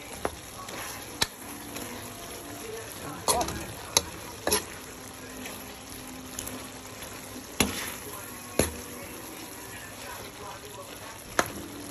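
Vegetables and onion frying together in a pan for Filipino pork igado, a steady close sizzle broken by sharp clacks of a utensil against the pan at irregular moments, with no talking.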